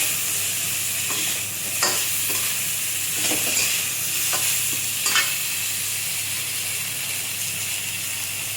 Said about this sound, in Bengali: এবার নুন দিয়ে দিলাম, হলুদ দিয়ে দিলাম, আমি নেড়ে চেড়ে নিই